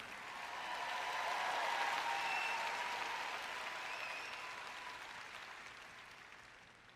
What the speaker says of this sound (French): vous pouvez applaudir un peu plus fort que ça